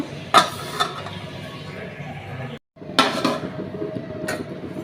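A lid set over a pot while making winter pitha, metal clinking and clattering against the rim in a few sharp knocks, with brief kitchen rustling between.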